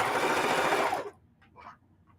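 A sewing machine stitches in the ditch through the layers of a scrappy quilted table runner, a steady loud whirring run for about a second that stops abruptly, followed by faint handling sounds.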